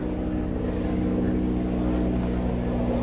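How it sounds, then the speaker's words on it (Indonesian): An airplane passing overhead above a garden where bonsai grafting is underway, heard as a loud, steady low engine roar that fills the whole clip, with no talking. "Mohon maaf ada gangguan sebentar teman-teman, pesawat lewat, jadi suaranya mungkin agak kurang jelas."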